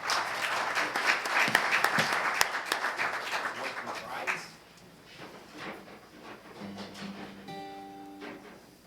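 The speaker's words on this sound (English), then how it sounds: "How about a round of applause for Frank?" Audience applause at a mayor's State of the City address in Dunkirk, New York: warm crowd clapping for about four seconds, then thinning to scattered claps and room murmur, with a few tonal hums near the end.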